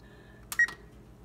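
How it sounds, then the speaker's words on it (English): A kitchen timer gives two short electronic beeps close by as it is set, quick and bright over a quiet, faintly humming background. "I usually set the timer for 14 minutes."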